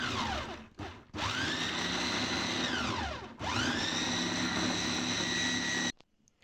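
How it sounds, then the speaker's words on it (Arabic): A food processor whirs at high speed grinding falafel ingredients such as dried coriander and salt, a loud steady motor whine that cuts out briefly twice and restarts before stopping near the end. "هنمسكها كده في الكبة نفرمها"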